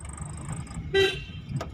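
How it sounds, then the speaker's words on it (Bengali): A single short car horn toot, sounded at a cyclist during a driving lesson in Ichapur, cuts through quiet engine hum and road noise, with a faint tone fading early on. "হর্ন মারে একটা, সাইকেলটা বেরিয়ে যাক।"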